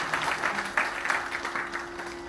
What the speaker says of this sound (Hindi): जोरदार तालियों से उनको धन्यवाद करते हैं।